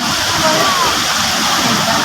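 Strong water rushes steadily at a dam, a loud, dense roar filling the whole clip, with people talking over it.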